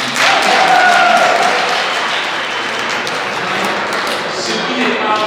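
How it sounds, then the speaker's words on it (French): A church congregation at a Sunday Lenten Mass breaks into steady applause, a dense wash of many hands clapping close and loud with a few voices mixed in, continuing for several seconds. "Pendant que je parle, vous devez applaudir les femmes."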